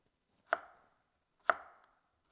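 A knife chops carrot and onion on a board, three sharp separate thunks about a second apart, close and clear with quiet between strokes and no voices.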